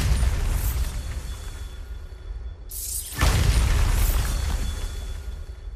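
Bombarda blasting spell in Hogwarts Legacy, a sudden loud explosion with shattering crash and rumbling debris tail, rising out of steady background ambience.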